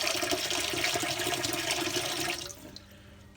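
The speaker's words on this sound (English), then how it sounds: "And then just fill it back up, probably about a litre, maybe a litre and a bit, 1200 ml of water." Water runs steadily into a pot of lentils for soup, a loud rushing pour that tapers off near the end.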